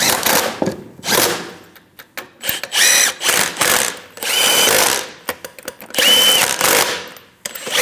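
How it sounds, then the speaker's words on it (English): Power tool snugging down lug nuts on a 2011-2018 Ram 1500 rear wheel: repeated short bursts of whirring and rattling, starting and stopping in quick succession, close and loud, with no talk. "install the wheel, get all the lug nuts started, snug them down."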